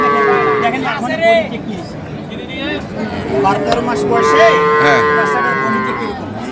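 Cattle moo repeatedly in long, drawn-out calls amid a busy crowd at a cattle market in Ambari, Dinajpur, with people talking throughout.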